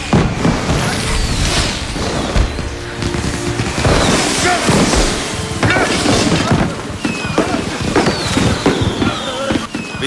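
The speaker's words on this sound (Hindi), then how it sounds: "आतिशबाजी कितनी खूबसूरत है।" Fireworks exploding in a dubbed Chinese fantasy film, with repeated booms and crackling bursts sounding almost continuously over a busy soundtrack and occasional voices.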